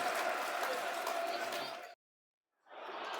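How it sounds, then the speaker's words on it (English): A football crowd claps and murmurs during a Millwall home match, with a broad, steady wash of applause that cuts off abruptly and then resumes. "You can hear the applause, listeners."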